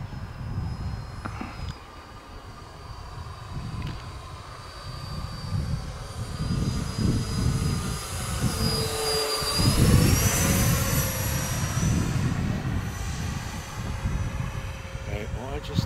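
An FMS Dassault Rafale 64mm RC EDF jet with an 11-blade fan on 4S, making a flying pass: a whining fan rising and falling in pitch as it sweeps by, over outdoor wind rumble.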